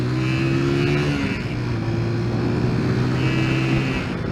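A motorcycle engine runs steadily while riding and then eases as the throttle is let off, a close, even droning hum with a faint wind rush and no voices.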